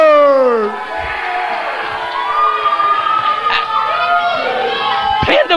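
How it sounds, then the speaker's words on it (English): Wrestling arena crowd cheering and chattering steadily throughout, loud and dense, with an announcer's voice talking over it. "The crowd, absolutely enthusiastic."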